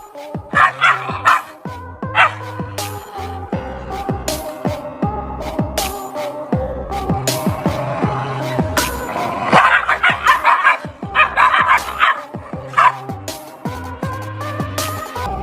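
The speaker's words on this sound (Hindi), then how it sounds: "तो दरवाजा बंद होते ही ये फिर से भौंक कर अपना स्वैग दिखाना शुरू कर देते हैं।" Dogs barking loudly and repeatedly, sharp yips and bow-wows in irregular bursts, with a few whimpers between.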